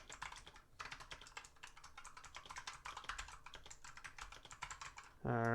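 Quiet, close keystrokes on a computer keyboard tap out in a quick irregular stream for several seconds, ending with a short louder noise.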